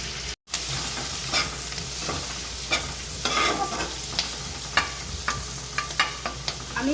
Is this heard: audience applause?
no